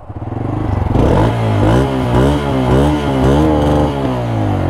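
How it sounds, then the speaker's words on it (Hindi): Bajaj Freedom 125 or Hero Splendor motorcycle exhaust idling, then revved repeatedly in a steady rising-and-falling rhythm, loud and close with no talking. "अब आपको हम एग्जॉस्ट नोट सुना देते हैं कि एग्जॉस्ट नोट कैसा है दोनों का"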